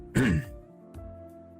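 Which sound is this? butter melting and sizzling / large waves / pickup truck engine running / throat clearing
throat clearing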